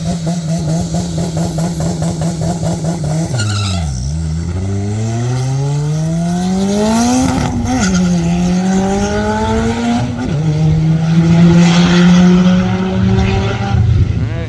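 A turbocharged Pulsar 6466 DSM race car roars through a test pass at a drag strip, its engine revving hard and climbing through repeated gear shifts, loud and sustained up close.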